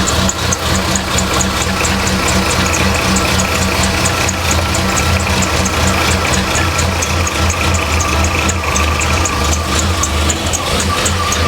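A Ford Mustang with a rough, faulty idle runs close and loud, its engine holding a steady, throbbing rumble with a fast repetitive ticking pulse throughout.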